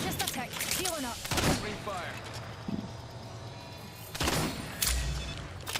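Video game gunfire pops in scattered bursts among music and game noise, with people talking over the action throughout.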